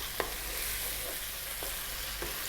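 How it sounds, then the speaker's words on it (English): Tomato paste sizzling in a pan as it cooks out, a steady close frying hiss broken by a few soft stirring scrapes, no talk. "what I want to do for 3 minutes is cook this tomato paste out a bit"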